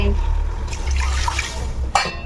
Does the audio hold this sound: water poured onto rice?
yes